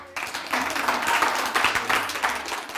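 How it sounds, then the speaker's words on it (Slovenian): A church congregation breaks into applause for a volunteer, a sudden onset of many clapping hands that swells and stays loud and dense for a few seconds. "Dajmo mu en aplavz."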